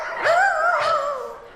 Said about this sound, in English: When she called for Dan Quayle, all that came out was a bark.